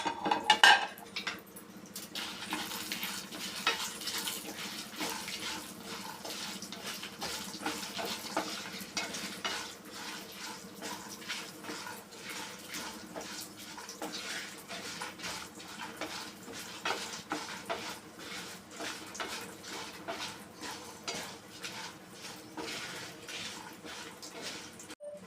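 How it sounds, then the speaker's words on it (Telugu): Green chillies and urad dal fry lightly in hot oil in a pan, a steady crackling sizzle that runs throughout, with repeated scraping and clinks of a spoon stirring against the metal. "మిర్చి, మినపప్పు ఇవన్నీ కూడా ఆయిల్లో కొంచెం లైట్గా ఫ్రై చేసుకోవాలండి"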